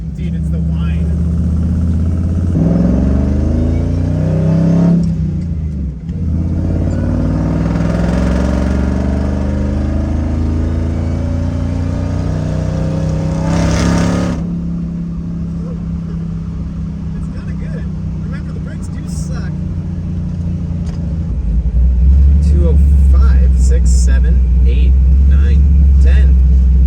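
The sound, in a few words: supercharger whine of supercharged LS engine in tow truck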